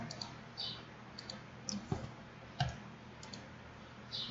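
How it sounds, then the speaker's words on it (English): Computer mouse clicks while working in an Excel spreadsheet, a few soft, close, sparse ticks spaced over several seconds, with quiet room hiss between them and no talking. "Right click to paste and go to values only."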